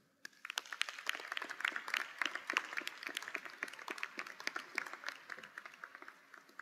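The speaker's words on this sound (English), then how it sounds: "Fellow graduates, please join me in applauding all of your supporters in this room." Scattered clapping from a graduation commencement audience in a hall, individual claps clearly separated, moderately loud and steady for several seconds.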